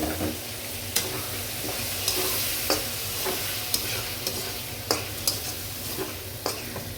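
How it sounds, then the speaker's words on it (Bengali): Raisins and thick-cut onions fry in a pan with cooked-down spice paste, a constant close sizzle punctuated by regular scraping and clinking strokes of stirring, no voices. "একটু কষিয়ে নিই।"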